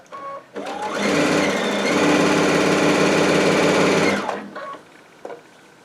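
Baby Lock Altair sewing machine stitching binding along the side of a quilt: a single steady motor whir with rapid needle chatter lasting about four seconds, starting and stopping cleanly, close and alone.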